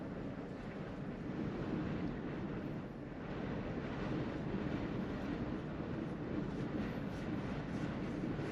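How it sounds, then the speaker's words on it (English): Strong wind roars steadily across the open Mundi Mundi Plains, a broad continuous rush buffeting the microphone with slight surges and no voices. "Pretty heinous wind."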